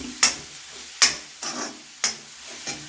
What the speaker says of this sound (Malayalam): അരപ്പിട്ട് കൊടുത്തിട്ടുണ്ട് നല്ലപോലെ ഇളക്കി